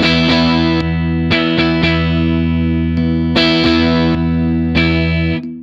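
An Epiphone Jerry Cantrell Prophecy Les Paul Custom on its neck pickup plays distorted, sustained chords through effects, with repeated strummed attacks ringing on, loud and close.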